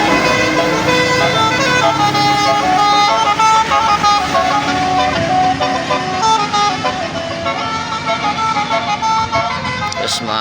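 Tourist coach pulling into a bus terminal bound for Padang, its horn sounding in sustained musical tones over idling engines and street noise, with a voice speaking throughout.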